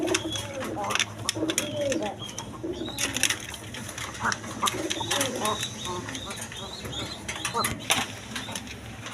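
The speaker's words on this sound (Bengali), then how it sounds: "এখানে এক পেয়ার আর্মি কবুতর আছে দেখেন" A pair of army pigeons coo in soft, repeated low calls, with scattered clicks and wing flutters, and voices murmur in the background.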